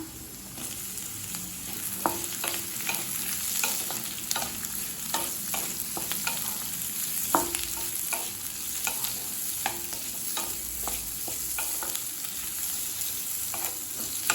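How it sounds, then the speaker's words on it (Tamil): Two onions with green chillies fry in a pan for capsicum chutney, giving a constant sizzle broken by repeated sharp scrapes and taps of a spatula stirring at an uneven rhythm, close and without speech. "வெங்காயம் நல்லா வதங்கிடுச்சுங்க"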